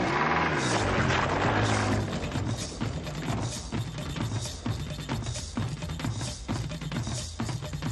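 A propeller plane's engine runs nearby, loud with a rhythmic throbbing chop, strongest at first and then settling into a steady pulsing drone.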